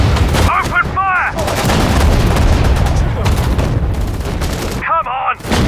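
Sudden Strike 4 battle at Dunkirk: dense, loud gunfire and booming artillery roll on continuously, with short shouted voices cutting through near the start and the end.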